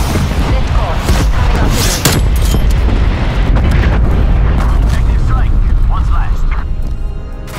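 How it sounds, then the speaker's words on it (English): Frag grenade explosions and other heavy blasts fill a Call of Duty: Black Ops Cold War team deathmatch, a loud, dense run of booms and rumbling detonations that continues almost without pause, with game voice lines mixed in. "Incoming frag grenade."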